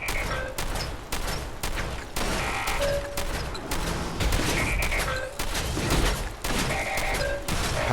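Shotgun blasts in Fallout 4 during a fight with Automatron robots, loud repeated booms in quick succession mixed with other combat noise and crashes, nearly continuous throughout.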